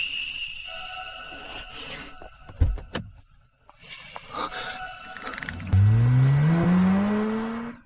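A car pulls away and accelerates, its engine rising steadily in pitch over the last couple of seconds, loud and close, after a few thuds and shuffling noises.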